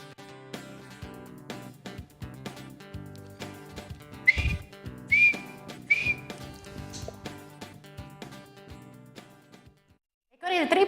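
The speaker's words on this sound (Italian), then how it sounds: "Il triplice fischio dell'arbitro di oggi" A referee's whistle sounds in three short sharp blasts to end a football match, heard over steady background music, followed by a louder swell of noise at the end.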